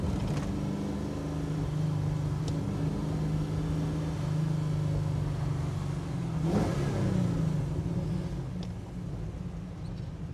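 A 1966 Pontiac GTO muscle car accelerates hard, its engine a sustained low droning roar heard from inside the car, rising briefly before settling.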